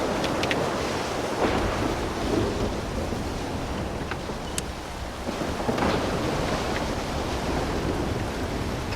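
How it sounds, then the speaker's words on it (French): Storm weather effects in the video game Stalker 2: heavy rain and roaring wind wash steadily with low thunder rumbles, loud and continuous, no talking. "Oh, c'est quelque chose, hein, cette tempête."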